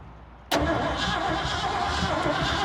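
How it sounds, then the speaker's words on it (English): A Ford F350 dually junkyard truck engine suddenly catches and runs after cranking, a loud abrupt onset followed by a steady, rough running roar close by, with no talking. "Just to see if it turns over"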